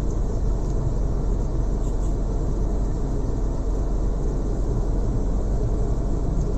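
Steady, loud car engine drone and road rumble from inside a manual-transmission car moving through heavy, stop-and-go city traffic, the engine held on the throttle in second gear with no clear rise in pitch, continuous throughout with no talking.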